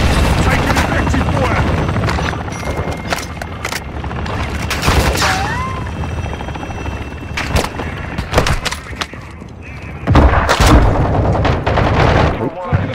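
Heavy gunfire pounds in a video game, loud and close: dense volleys of shots and booms stack up almost continuously, with a few voices heard among them.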